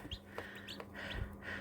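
Newly hatched chicks chirp and peep in soft, high bursts, several small overlapping calls close by over a low background hum.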